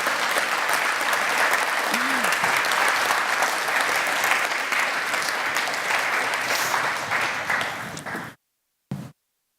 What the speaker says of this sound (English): just go into rapturous applause